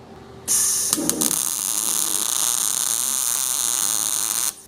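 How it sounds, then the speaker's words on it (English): A bandsaw slices through scrap exhaust tubing for a homemade exhaust system, a steady loud whine and grind running about four seconds with a brief heavier bite near the start, then stopping abruptly. "So I'm gonna run this through the bandsaw"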